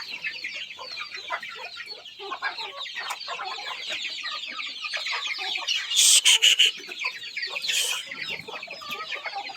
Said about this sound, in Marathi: या मोठ्याल्या कोंबड्या लगेच वरती बसायला सुरुवात होऊन गेल्या.